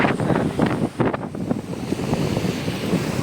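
Sea waves washing onto a sandy shore, heard as a continuous rushing wash with wind buffeting the microphone, close and fairly loud for a few seconds.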